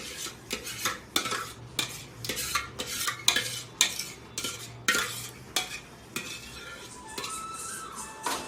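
Vegetables stirred into pav bhaji in a pot, giving repeated sharp scraping and clinking strokes of a utensil against metal, close and fairly loud, with a soft oily sizzle underneath.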